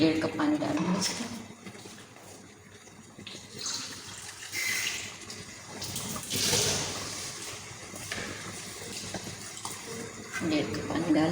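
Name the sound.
water poured into cooking keema aloo matar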